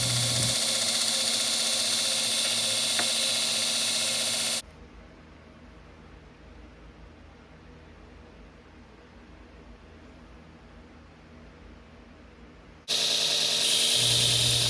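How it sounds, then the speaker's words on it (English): Belt grinder with a 220-grit belt grinding bevels on a bushcraft knife, a loud steady whirring hiss at close range that stops for several seconds, leaving a faint hum, then starts again. "And then we'll also use a 220 belt to start putting in the convex."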